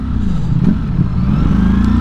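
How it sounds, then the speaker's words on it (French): A 2022 Ducati Streetfighter V4S with its V4 engine revs up close and loud, a deep throbbing rumble rising and falling in quick blips, no talk over it. "ils ont fait un V4 mais qui sonne presque comme un V2, Ducati quoi"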